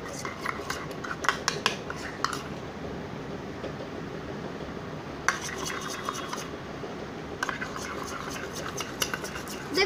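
Slime of glue and shaving cream stirred in a container, giving a steady wet scraping and clicking of the utensil against the sides with a few louder clatters and no talk.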